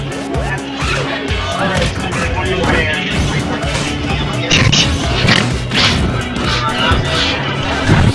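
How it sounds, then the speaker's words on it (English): Diddy Kong's down smash landing on Wolf in Project M at a live tournament, sharp smacking hit sounds over game audio, with crowd chatter and commentary voices throughout. "getting down smashed by the Diddy down smash of death"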